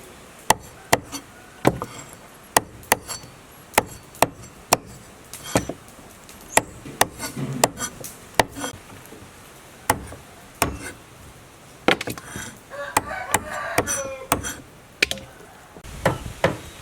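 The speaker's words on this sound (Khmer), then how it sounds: "ឥឡូវនេះខ្ញុំចាប់ផ្ដើមកាប់ជើងមាន់" A cleaver chopping raw chicken feet on a wooden cutting board, a string of sharp, close, irregular thwacks repeating steadily with short pauses, no speech.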